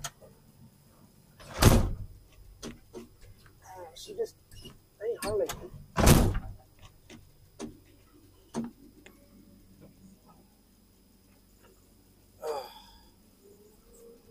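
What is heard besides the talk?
squeaky window on road building machine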